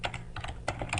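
Quick burst of keystrokes on a computer keyboard while a web address is typed into a website editor, close and crisp with several distinct taps, no voices.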